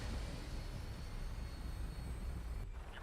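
A fixed-wing aircraft in Fallout 4 takes off with a steady, loud engine roar, a dense continuous drone filling the whole moment with only a brief dip near the end.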